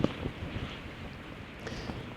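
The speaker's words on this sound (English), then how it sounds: "because it is so windy" Strong wind buffets an outdoor microphone, producing a low, rumbling roar with uneven gusty surges across a couple of seconds.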